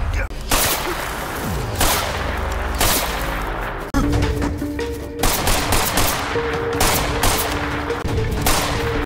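Revolver gunfire from the 2020 film Nishabdham: a rapid series of sharp, loud shots and cracks spread across the scene over a continuous movie soundtrack.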